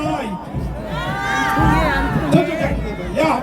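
A noisy crowd at a political rally chatters and shouts over one another, with excited voices and occasional whoops rising above the babble.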